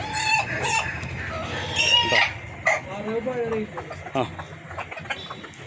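Roosters among spotted and Kappiri parent-stock chickens crow repeatedly in loud, drawn-out calls with some clucking between them, close by, over faint background voices.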